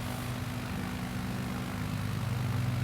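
Steady drone of a propeller aircraft engine in Microsoft Flight Simulator 2020, a continuous hum with low tonal components settling slightly as the RPM is lowered, heard alone.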